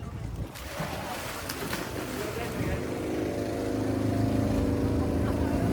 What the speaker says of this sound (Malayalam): അങ്ങനെ ചെറുവള്ളത്തിൽ മീനെല്ലാം നിറച്ച് ആ വള്ളം ഇനി നേരെ കരയിലോട്ട് പോകട്ടെ.